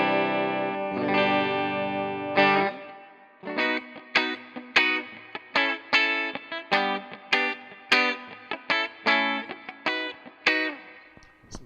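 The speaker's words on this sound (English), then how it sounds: "Starting on the Spring Reverb because that's kind of the first position on the switch" An electric guitar played through an Orange CR120H amp on its spring reverb: one long ringing chord, then a steady run of about a dozen rhythmic chord stabs, each with a short reverberant tail, loud and alone.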